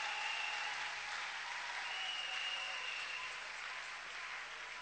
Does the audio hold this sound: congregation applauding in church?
yes